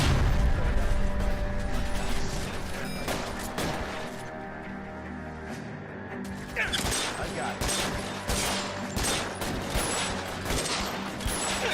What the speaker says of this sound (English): I'm literally shooting him in the head.